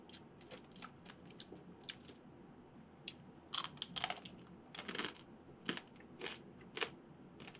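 Crispy ramen noodles crunch and get chewed up close, in a string of sharp, irregular bites and crackles with no talking.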